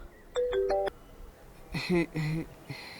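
A telephone rings in a drama scene, a short electronic tone burst followed after a pause by a second ringing burst, fairly loud and close with no talk over it.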